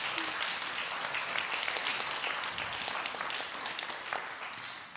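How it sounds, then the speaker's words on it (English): Audience applause at a Classic Rock Night benefit evening, a steady moderate wash of many hands clapping that holds for several seconds before tapering slightly, with no voices over it. "Applause."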